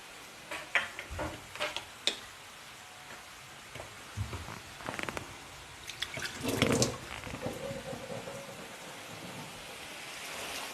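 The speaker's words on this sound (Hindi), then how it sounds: "तो मैं इसमें और पानी डाल दूंगा थोड़ा सा।" A little water pours into a thick cooking mixture in a kitchen, giving soft splashes and trickles with some clinks at first, then a louder pour in the middle that fades to a faint wash.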